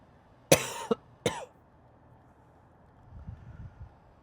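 Two sharp coughs close to the microphone, a brief pause, then soft rustling and low wind noise.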